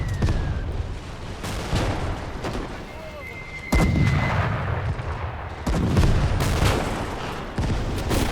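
Artillery barrages in the WW2 Eastern Front video game Gates of Hell: Ostfront, with heavy booming blasts and a rumbling, sustained roar of gunfire that swells in several loud waves.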